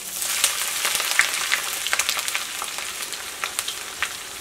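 Ginger frying in hot oil with dried red chillies for a drumstick leaf pickle, giving a steady close sizzle with scattered crackles and pops.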